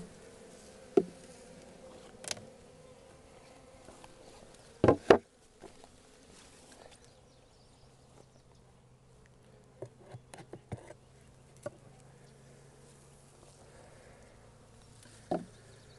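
Honey bees from a package hive hum faintly during a twelve-day inspection, with scattered soft buzzes of individual bees passing close, a few sharp knocks and taps, and a quiet background throughout.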